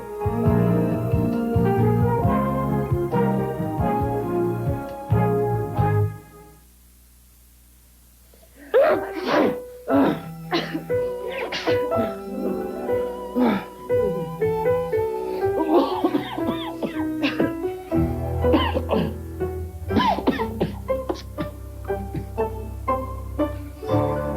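Sneezing and coughing bursts over a steady musical bed, with a short quiet gap early on before the sounds resume, fairly loud and close.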